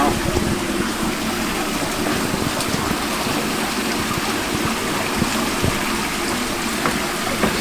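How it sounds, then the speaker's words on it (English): Water gushing out of the turbine at Chase's Mill, a steady dense rushing and splashing that holds evenly throughout, close and fairly loud. "you'll see water coming out of that turbine"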